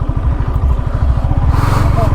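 A jeep engine labors off-road near the Erachilpara waterfalls in Marayoor, a loud, close, throbbing low rumble with a steady pulsing beat, while people talk over it.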